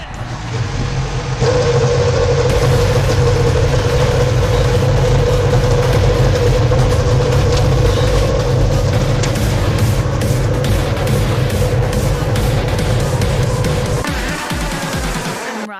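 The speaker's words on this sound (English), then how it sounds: "Driver, start your engine!" Loud race car engines in a video game roar up together at Pocono Raceway after a brief lower rumble, holding a steady droning growl for a long stretch before tapering off at the end.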